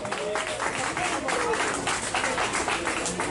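Audience applause at a live event at EXPO Tempo pa Click 2016, a steady wash of clapping and crowd noise lasting throughout, fairly loud and close, with voices mixed into the din.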